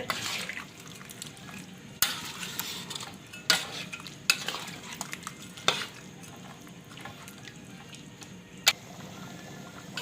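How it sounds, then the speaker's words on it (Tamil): Spicy chicken perattal stirred in a pan over a medium flame, a soft low sizzle broken by sharp, scattered clanks and scrapes of a utensil against the pan. "இப்போ நல்லா மீடியம் ஃப்ளேமில் வச்சுட்டு இந்த மாதிரி கிண்டி விடுங்க"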